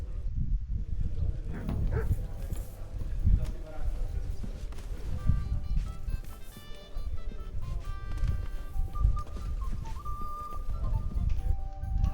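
Horse hooves clip-clop through the Kingdom Come Deliverance II video game, steady and repeated beneath continuous music and other game sounds, with voices talking over them.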